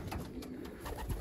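Pigeons in a loft, soft cooing murmurs close by and low under a steady background hiss, brief and continuous.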